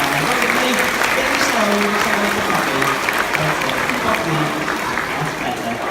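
Crowd applauding continuously at an outdoor sea lion show at a safari park, a loud, steady roar of clapping, with voices and a brief spoken line over it.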